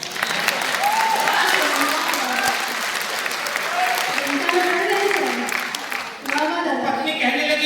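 An audience at a comic Hindi poetry recital in Delhi gives loud, sustained applause, a steady wash of clapping that keeps going across the whole stretch with a brief dip near the end.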